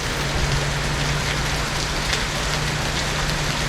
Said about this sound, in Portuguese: Enfraqueceu um pouco a chuva